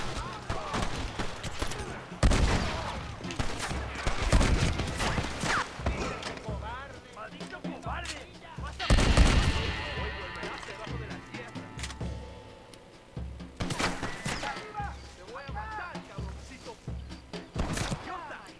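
Gunfire in the Western video game Red Dead Redemption, with bursts of shots fired in town across a noisy fight, loud at moments and mixed with other game sounds and someone talking over it.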